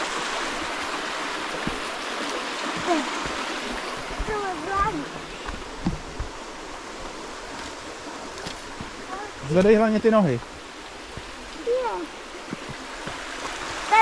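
Steady rushing of a flowing stream in Bohemian Switzerland, Czech Republic, fills the background while children and an adult talk and call out over it.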